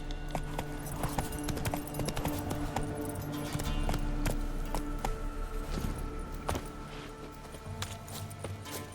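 Horse hooves clip-clop steadily in The Witcher 3, a continuous rhythmic trot close by with game ambience beneath, no talk over it.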